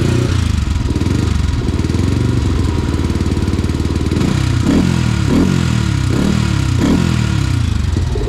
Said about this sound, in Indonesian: Oh, ini posisi silent.